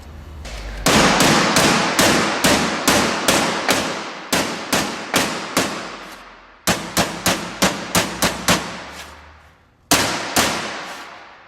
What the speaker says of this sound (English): I'm just going to tap this back down with my hammer to try to flatten it out